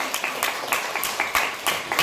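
Audience applause at a live French concert, a steady wash of many hands clapping with rhythmic bursts, fairly loud and continuous throughout.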